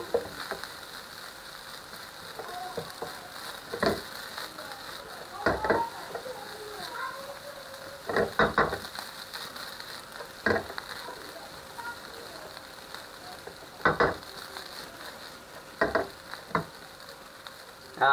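Soft frying sizzle of margarine melting runs steadily beneath sharp intermittent clacks of a utensil scraping and stirring in a pan, close by, while making fried rice.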